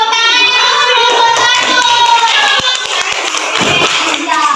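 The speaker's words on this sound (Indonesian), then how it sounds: "Oke, tepuk tangan yang kelompok" Classroom applause for a student group that has just finished presenting in a microteaching lesson: a steady patter of clapping hands fills the room, with voices and some cheering mixed through it.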